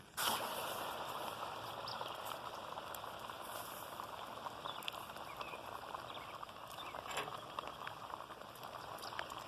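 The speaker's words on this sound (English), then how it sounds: "Take a tomato, drop it in." A tomato dropped into homemade liquid propane sets off a continuous, even bubbling hiss of boiling liquid that carries on without a break and without speech.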